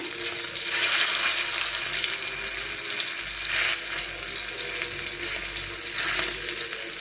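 Chicken tikia patties fry slowly in a pan with a steady, close hiss that rises and falls in soft waves and runs continuously with no talking.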